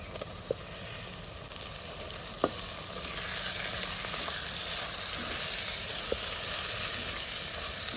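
Green chilies, ginger garlic paste and tomatoes frying in a pan give a continuous close crackling sizzle, with a few light taps of a spoon against the pan and no voices.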